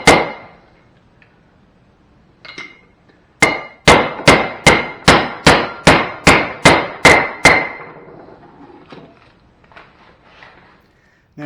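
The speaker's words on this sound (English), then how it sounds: "you just basically hammer on it until it's flush" A bearing race is hammered into a disc rotor on a 1932 coupe: two early strikes, then a rapid run of about ten sharp, ringing metallic blows close by, fading to quiet afterward.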